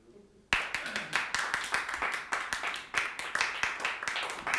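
A church congregation at a Bible school service claps together: sharp hand claps start abruptly after a brief quiet moment and continue in a steady, fairly brisk rhythm, close and loud, with no talking over them.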